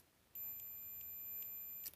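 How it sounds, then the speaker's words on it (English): A cheap handheld multimeter gives a steady, high continuity beep lasting well over a second, close and clear, tested on a rugged Deutsch connector with a mismatched earth connection. "here is a cheapy meter that goes beep, beep"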